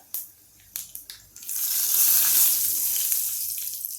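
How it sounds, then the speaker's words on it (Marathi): Turmeric and curry leaves hit hot oil with a sudden loud, bright sizzle that holds steady after a few sharp clicks and taps, during cooking of a Vidarbha-style khichadi and brinjal bharta. "आता यामध्ये थोडीशी हळद टाकून देणार आहे आणि हा कढीपत्ता"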